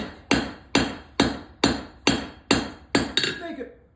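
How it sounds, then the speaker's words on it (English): A blacksmith's hammer strikes hot iron on an anvil in a historic smithy, ringing out in eight loud, evenly spaced metallic blows, the last few quicker and fading. "Then we're going to roll it on the anvil, tapping on it."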